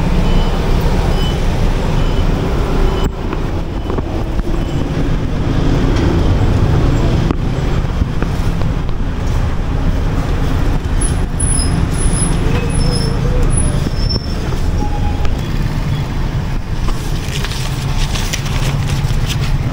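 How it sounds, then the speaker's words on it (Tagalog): Steady road traffic noise in Naga, a continuous loud wash of engines and passing vehicles, with occasional higher beeps and rattles, under light talk. "At ayan, napakatagal sa traffic."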